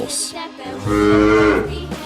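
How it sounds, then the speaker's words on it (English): A cow lets out a single long, loud moo, rising and sustained for over a second, with a shorter lowing sound trailing after it. "Cow."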